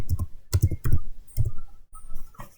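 Brisk computer keyboard typing while entering network switch interface commands, with quick close clusters of key clicks and brief gaps.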